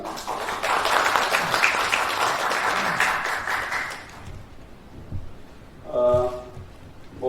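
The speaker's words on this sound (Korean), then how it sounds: "박수로 환영하겠습니다" Audience applause welcoming a speaker at a Korean journalists' association presidential candidate debate, moderately loud for about four seconds, then fading to quiet room noise with brief voice-like sounds toward the end.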